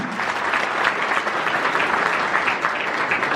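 A crowd at a political gathering breaks into sustained applause, many hands clapping in a dense, even patter that stays loud and steady throughout, with no voices standing out.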